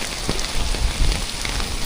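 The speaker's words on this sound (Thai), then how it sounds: "อืมเออก็ฝนตกมาเลยสิ" Heavy rain drums steadily on a small umbrella on a Bangkok street at Siam Square, a dense close patter with no voices.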